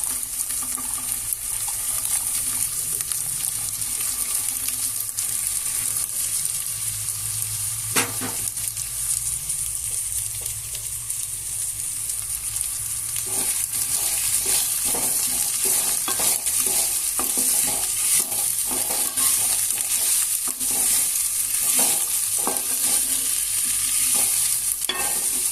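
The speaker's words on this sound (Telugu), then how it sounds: "ఇప్పుడు మనం గోరుచిక్కుడు ముక్కలు వేసేసుకోవాలి." Broad bean pieces frying in a pan and stirred, giving a steady, close sizzle with repeated scraping strokes of a spoon against the pan that grow more frequent in the second half.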